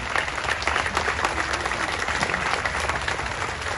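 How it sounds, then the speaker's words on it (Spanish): Audience applause fills a state sports awards ceremony honoring Paralympic Games athletes: sustained, dense clapping from a large crowd that holds steady throughout, with no talk over it. "También un aplauso para Donovan."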